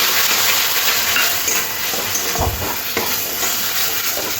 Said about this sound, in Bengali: মশলাটাকে খুব ভালো করে কষে নিতে হবে